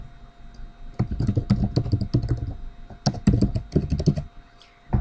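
Rapid, irregular clacking of a computer keyboard as a student types text, bursts of keystrokes with brief pauses, close and clear with no talking.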